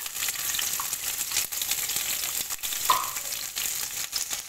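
Garlic frying in sesame oil in a pan, a steady bright sizzle throughout with occasional crackles and brief spatters, close and continuous.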